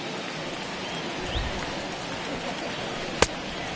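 Heavy rain falls in the MLB 21 baseball video game, a dense, even hiss of downpour across the whole stretch, with one sharp crack near the end and no talking.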